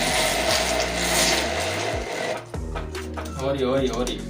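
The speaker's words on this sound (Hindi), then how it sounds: "या तो आज ये मशीन रहेगा मेरा, या तो ये लहसुन अदरक आज ग्राइंड होगा" An electric grinder whirs loudly as it grinds garlic and ginger, its motor droning steadily, then cutting out and restarting with rising pitch, close by with a voice speaking over it.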